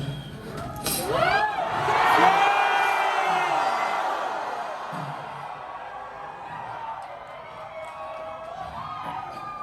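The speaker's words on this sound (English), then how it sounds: "Let's yell Charles" A large indoor crowd at a memorial benefit in a ballroom yells and cheers together. The roar peaks early and then slowly fades into scattered whoops and shouts.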